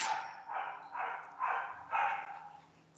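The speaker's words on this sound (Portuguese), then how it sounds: "tem um cachorro que começou a latir aqui agora" A dog barks nearby in a steady series of about five loud, evenly spaced barks over a faint background hum, with no talking.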